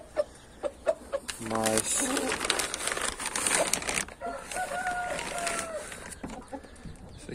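Game hens cluck and cackle close by in a backyard pen, with sharp clicks and knocks early on and someone talking over the birds.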